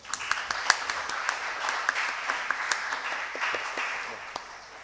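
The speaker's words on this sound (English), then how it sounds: "Let's give them a huge round of applause" An audience at a law student event applauds together in a steady burst of clapping that peaks early and slowly tapers off over a few seconds.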